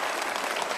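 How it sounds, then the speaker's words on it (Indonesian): A studio audience at an Indonesian talk show bursts into dense, continuous clapping that fills the short moment at full volume. "Oke, kita tepuk tangan Andri Wibowo."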